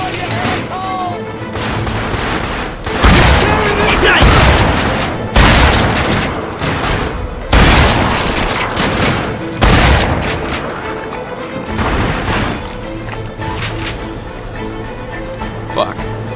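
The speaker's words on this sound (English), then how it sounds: "Shotgun time." Heavy shotgun blasts in The Darkness 2 boom roughly every two seconds, loud and close, each with a rumbling tail over dense game noise, with a player talking now and then.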